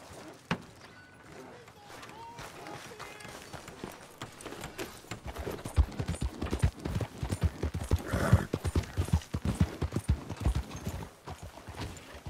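Steady clip-clop of hooves in Red Dead Redemption II builds from about five seconds on, with a horse whinny and voices talking over the trotting.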